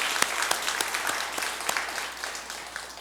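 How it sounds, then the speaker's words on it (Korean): A church congregation at a Wednesday evening service claps together in a steady burst of applause, a dense patter of many hands filling the room for several seconds. "여러분 박수 한번 하겠습니다"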